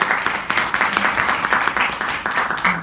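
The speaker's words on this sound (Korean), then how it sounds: "박수로 맞이해주시기 바랍니다." An audience at a panel discussion claps in applause, a dense, steady patter of many hands throughout.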